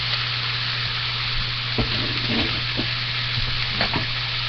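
Leeks for bruschetta sizzle steadily in a hot pan, a continuous loud frying hiss with a few clinks and stirring scrapes over a low steady hum.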